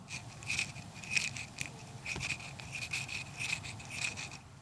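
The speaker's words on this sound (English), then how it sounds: "You don't see, but you can hear the rotor, and we have been recording the sound." Peripheral winding rotor of a Bulgari Octo Finissimo Tourbillon Automatic watch, heard close up as faint, repeated whirring ticks and rasps in uneven bursts against a quiet background.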